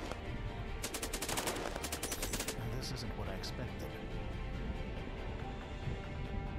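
Rapid automatic gunfire from the zombie strategy game Cepheus Protocol crackles in a dense burst early on, followed by a few isolated shots over a constant loud rumble of game noise.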